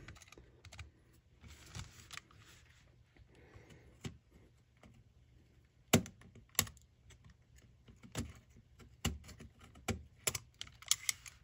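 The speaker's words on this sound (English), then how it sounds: "So I'm going to be using a craft knife, and I will carefully scrape away the plastic" A craft knife scraping plastic away from the Slot-2 cartridge slot of an original Nintendo DS, heard as faint, close scratches and sharp little clicks scattered irregularly over a quiet background.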